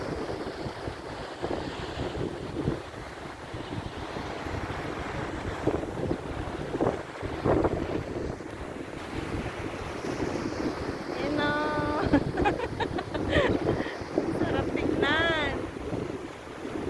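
Waves wash and roll steadily against a boat or shore while strong wind buffets the microphone, with a few brief voices and clatters.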